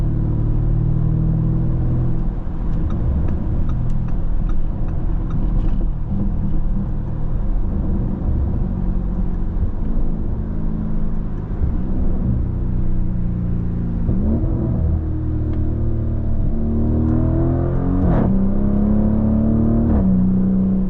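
A 2025 Lamborghini Urus SE super SUV runs with a deep, loud engine rumble that swells and eases in repeated revs and accelerations, heavy low tone throughout, close by and without talk.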